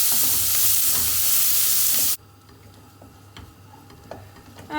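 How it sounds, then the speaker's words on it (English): Onion sizzles as it is stirred in a hot pot for lamb and vegetable soup, a loud bright frying hiss that cuts off abruptly about halfway, leaving faint clicks and stirring taps alone. "so in goes the onion. With a little bit of a stir."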